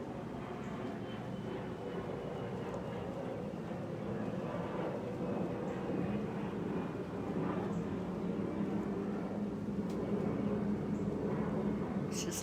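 A propeller or jet airplane passing overhead outdoors in a natural setting, a steady broad low rumble that stays loud and continuous throughout with no talking.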